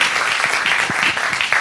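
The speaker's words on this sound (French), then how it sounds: "je vous demande d'accueillir avec de chaleureux applaudissements" Audience applause welcoming a speaker to the stage at a marketing conference, a brief dense burst of clapping heard alone.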